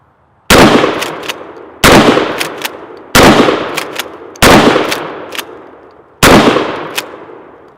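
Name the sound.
Mossberg Shockwave 12 gauge shotgun firing birdshot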